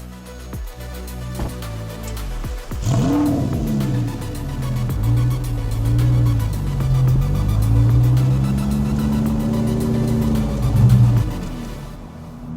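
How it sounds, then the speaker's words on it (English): Audi R8 V10 Spyder with a gated manual gearbox driving. The engine rises and falls in repeated revving pulls through the gears, loud and near, with a steady road rumble underneath and no talking. "So here we are driving the R8."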